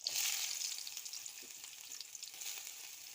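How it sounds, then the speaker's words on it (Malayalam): Onions fry in hot oil in a pan, a bright hissing sizzle that bursts loudly at first, then settles into a steadier crackle with small spatters. "അപ്പോൾ നമുക്ക് ഉള്ളി ആഡ് ചെയ്ത് കൊടുക്കാം."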